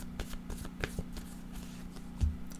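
Tarot cards are shuffled by hand, a quick run of soft riffling flicks and taps close by, ending with a dull thump as a card is set down.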